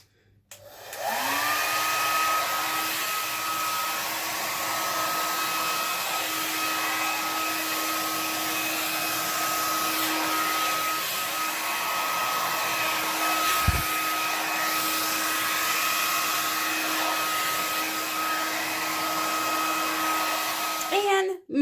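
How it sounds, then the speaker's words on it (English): A hair dryer spins up and blows steadily for about twenty seconds over an acrylic Dutch pour with Floetrol, a continuous whirring motor whine with airy hiss, close and loud, then switches off. "Let me blow this around and we shall be done."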